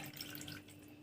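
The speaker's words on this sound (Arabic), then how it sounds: "نحط بقى شوية مية كده" Water is poured into a container in a home kitchen while juice is being made, a brief, quiet trickle and splash lasting about a second, heard alone.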